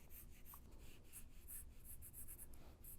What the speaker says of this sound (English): I'm really using the side of the pencil. I'm using the tip of the pencil.